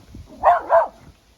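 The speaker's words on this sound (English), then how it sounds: "There's nothing there to bark at" A dog barks twice in quick succession outdoors near a pear tree, close and loud, with a quiet background and no talk.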